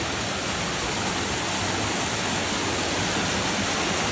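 A mountain stream on Mount Washington's Ammonoosuc trail rushes steadily and loudly, a dense, unbroken roar of flowing water with no pauses.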